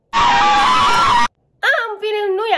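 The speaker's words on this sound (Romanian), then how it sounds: "Este un țipăt, o să-l pun acum" A loud recorded scream blasts from a phone or speaker for about a second, cuts to silence, then a second wavering, high-pitched shriek follows, set up as a prank to frighten parents.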